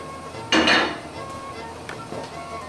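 Matzo balls dropped into a pot of boiling vegetable broth, one clear clatter of spoon against pot followed by softer faint clinks, no talk.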